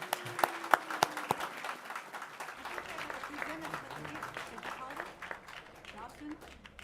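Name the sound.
applause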